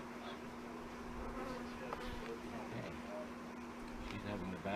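Honey bees buzz around hive boxes during fall hive care, a constant faint drone lasting the whole time, with people talking quietly over it.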